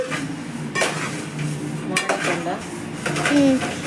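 A spoon scraping and clinking against a pan while stirring a chudva snack mixture as it fries, with continuous rattling and light sizzling, and someone talking over it.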